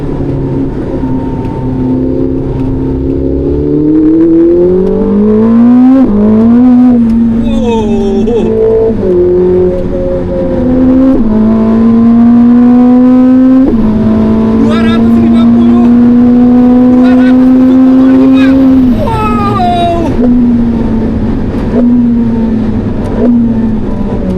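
A Ferrari 849 Testarossa engine revs hard and loud on a track, pitch climbing through gears with sharp drops at each shift, carrying on continuously for over twenty seconds.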